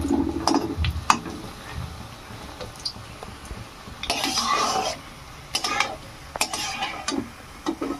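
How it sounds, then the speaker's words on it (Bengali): Egg and gram flour fritters lifted from a frying pan, with clinking spoon-on-pan taps and scrapes over a soft background sizzle, in uneven bursts at close range. "বড়াগুলো খুব সুন্দর করে ভেজে নিয়েছি, এবার আমি উঠিয়ে নেবো বড়াগুলোকে।"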